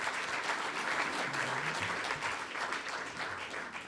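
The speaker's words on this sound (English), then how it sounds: "I'd like to ask you to give a round of applause to John and the whole group that was involve" Audience applause fills a Rotary club meeting room, a steady dense wash of many hands clapping that holds at an even level for several seconds.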